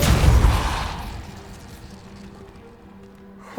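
Depulso force spell striking a blocking pile in Hogwarts Legacy: a heavy blast hits at once and rumbles, then fades into a quiet low hum before a small sharp sound at the very end.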